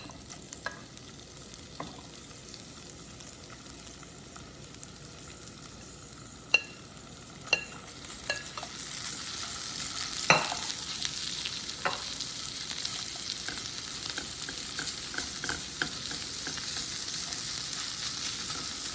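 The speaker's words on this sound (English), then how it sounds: "just leave it there for a couple of minutes to get a bit of a sear and heat it all up" Chicken shawarma meat sears in a hot pan with a soft, continuous frying hiss, a few sharp clicks from a utensil, then a slightly louder sizzle from mid-clip on.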